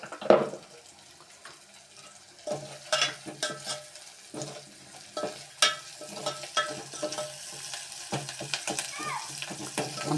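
Ginger and turmeric fry in a pan being stirred, giving intermittent scraping and sizzling bursts at close range alongside running water and occasional voices.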